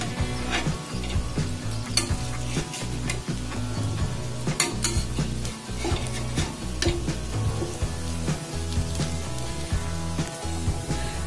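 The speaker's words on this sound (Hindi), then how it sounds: "अब हम इसको पलट कर दूसरे साइड भी पका लेंगे।" A black chickpea shammi kabab fries on its second side in a pan over a medium flame, with a steady close sizzle and repeated sharp clinks and scrapes of a utensil against the pan.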